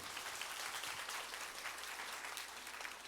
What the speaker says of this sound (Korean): 우리 박수 한번 쳐주시길 바래요